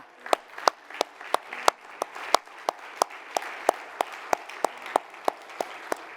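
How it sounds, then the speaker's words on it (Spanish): A church congregation claps in a steady, evenly spaced rhythm after a closing prayer, with crisp individual claps over a soft bed of scattered hands and room murmur. "Un aplauso"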